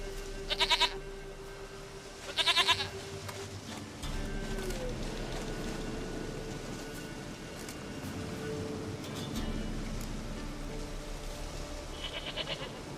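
A goat bleats in The Witcher 3 video game, with two clear, loud bleats near the start and a fainter one near the end over a steady ambient game background.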